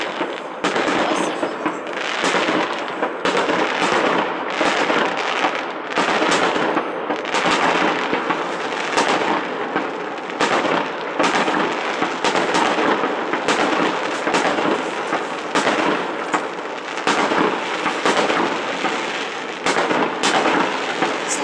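Dense, continuous barrage of New Year's Eve fireworks in Kharkiv, bursts and crackling pops, many overlapping explosions near and far with no pause, loud throughout.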